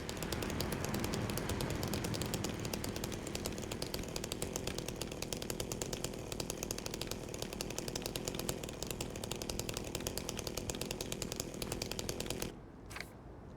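A chainsaw in the Silent Hill 2 Remake video game runs with a continuous buzzing rasp for about twelve seconds and then cuts off abruptly, leaving quiet behind it.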